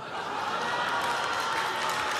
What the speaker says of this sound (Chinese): 在那儿 鼓掌啊！